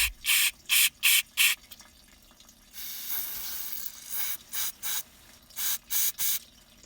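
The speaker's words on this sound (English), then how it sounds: "So you clean it out with some brake clean," Brake cleaner sprayed into the fuel pressure regulator hole of a John Deere 310C backhoe: a string of short, sharp hissing bursts, one longer steady spray in the middle, then more quick bursts, all close and with no talking.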